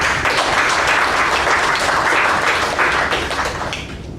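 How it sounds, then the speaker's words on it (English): Loud, dense audience applause at a speech evaluation meeting, with many hands clapping steadily and filling the room before it tapers slightly at the end. "So big round of applause for her."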